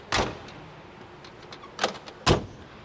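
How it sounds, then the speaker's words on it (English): The heavy door of a 1956 Mercury XM concept car is worked: a sharp thud at the start, then two more close, solid door thumps a little later, with quiet room noise between and no talk. "takes a lot to shut that door."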